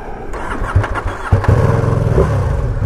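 A 2020 Ducati Panigale V2 motorcycle is started up close: a brief starter crank catches into a loud, rumbling idle that holds steady.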